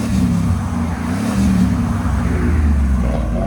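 A cammed GMC Sierra with a 6.2L V8, headers and a Valvetronic exhaust gives a loud, deep, rumbling idle close by, with a slight rise in revs partway through.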